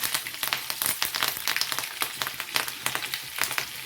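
Mustard seeds crackle and spit in hot oil, a dense run of sharp pops over a steady sizzle, close and fairly loud with no voices.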